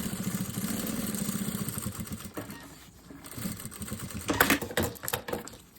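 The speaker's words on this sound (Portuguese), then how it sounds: "Essa costurinha aqui de baixo, ela é bem na beiradinha" A domestic sewing machine stitches close to the edge of the lining of an Easter cosmetic bag, a fast steady mechanical whir for a couple of seconds, then a pause and shorter bursts with clicks and handling.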